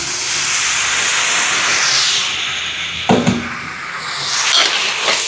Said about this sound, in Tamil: இப்போ பாருங்க வெங்காயம் எல்லாம் நல்லா வதங்கி வருது